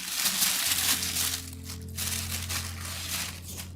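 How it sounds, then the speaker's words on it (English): Books being unwrapped from their packaging, with a close, continuous crinkling and crumpling of wrapping material and a steady low hum beneath, no talking. "let's unwrap some of these books"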